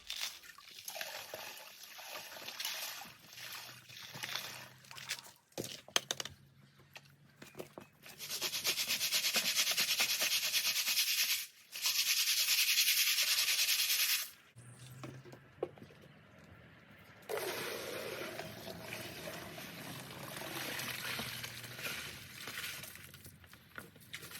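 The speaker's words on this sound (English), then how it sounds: "So I'm just classifying the dirt down now" Creek dirt and gravel shaken and rubbed through a sieve to classify it for gold, with long gritty rasping bursts broken by pauses and scattered clicks of stones, heard alone at close range.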